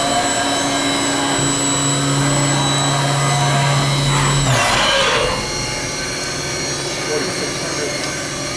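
A 2006 HAAS VF-3 CNC vertical machining center spindle runs up to 8,400 RPM as a loud, steady high whine with strong harmonics, then its pitch drops sharply about halfway through and it carries on at a lower, steady hum.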